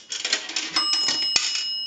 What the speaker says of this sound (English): A nickel will ring the bell once.